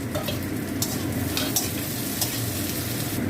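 Crushed garlic and green chilli frying with half-fried chopped onion in a pan: a steady close sizzle throughout, broken by a few sharp scrapes of stirring, with no voices.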